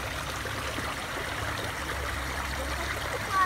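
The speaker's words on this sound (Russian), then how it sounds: "Это называется душевая. Да, это душ." Steady rushing water with a constant broadband hiss, like a shower running close by, with no voices.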